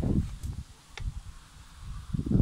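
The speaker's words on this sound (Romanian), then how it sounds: "Văd că adie vântul." Wind gusts outdoors roll across the microphone in low, swelling rumbles, easing off in the middle and building again at the end, with only a faint hint of leaves rustling.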